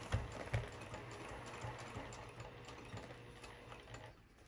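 A sewing machine stitches a narrow seam on a vinyl zipper pouch, a quiet, steady mechanical whir with a couple of clunks at the start, fading slightly toward the end.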